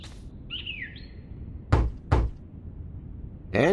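Two heavy, solid knocks land on a thick oak door in an adventure video game, spaced half a second apart, after a short electronic chirp and before another thump, with no voices.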